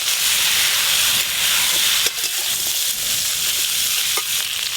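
Chopped vegetables with turmeric fry in mustard oil for a fish curry, giving a loud, close, hissing sizzle that holds steady, broken by a couple of brief stirring knocks, with no one speaking.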